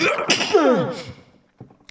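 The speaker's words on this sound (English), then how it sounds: "someone's at the door, I gotta sneeze" A single loud, close sneeze with a sharp intake and burst, followed by a brief pause and a faint short sound.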